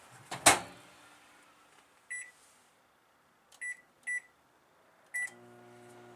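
A microwave door clunks shut, then several sharp electronic beeps sound as buttons are pressed, followed by a low hum as the oven starts.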